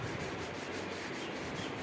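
Hand sanding of a carved wooden Jagannath, Balaram and Subhadra idol, 1.5 feet tall, a steady, soft rasping of abrasive on wood in regular back-and-forth strokes, close and unaccompanied by speech.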